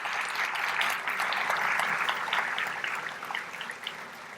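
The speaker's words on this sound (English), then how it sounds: "let's give them a great round of applause" Sustained audience applause at an annual meeting after honorees are introduced, a dense steady patter of many hands holding for over four seconds before easing slightly near the end.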